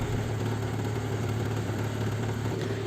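A tractor pulls a ridger attachment through a sugarcane field in Uttar Pradesh, India, cutting furrows. Its engine holds a steady, moderately loud mid-pitched drone throughout, with no talk.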